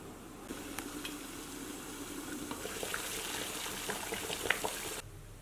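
Water bubbling at a rolling boil in a pot on a camping stove inside a Scottish mountain hut, a steady soft seething and sizzling hiss that runs throughout at close range with no talking.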